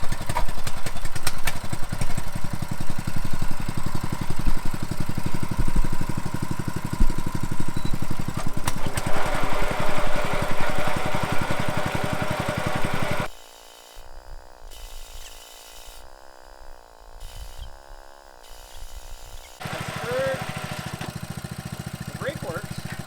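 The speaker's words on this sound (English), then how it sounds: "I'm gonna maybe try and start the engine, gently run it through the gears with this wheel off the ground." An antique Wheel Horse lawn tractor engine runs loud and steady with a rough, clattering mechanical drone close by, then drops to a lower, uneven idle with lighter rattles before picking up again near the end.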